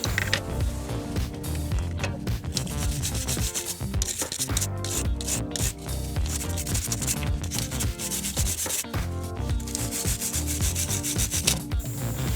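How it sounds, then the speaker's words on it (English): A small brush scrubs a Jeep Wrangler JL brake pad in quick, loud, close strokes, a continuous raspy scratching with an uneven back-and-forth rhythm and no talk. "a little brush to clean up the rest of the brake pad"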